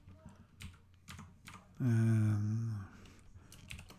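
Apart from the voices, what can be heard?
typing on a computer keyboard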